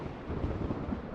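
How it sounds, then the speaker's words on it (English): Low thunder rolls during a thunderstorm in a Roblox flying game with a Concorde airliner, a faint, steady rumble with soft swells and no speech. "we have to fly the Concorde during a thunderstorm"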